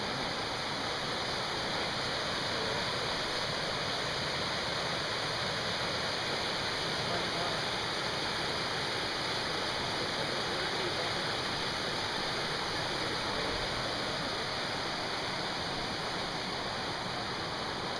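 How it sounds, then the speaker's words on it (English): A river in the Great Smoky Mountains rushes steadily in a continuous broadband wash of flowing water, close and fairly loud, with no break for the whole stretch. "Beautiful river."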